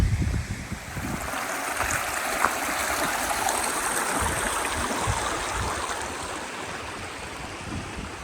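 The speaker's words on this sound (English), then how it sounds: "if that isn't the perfect camp spot, next to a couple of streams" A mountain stream in the Pyrenees near Andorra rushes steadily and close, a continuous broadband wash of flowing water with no break.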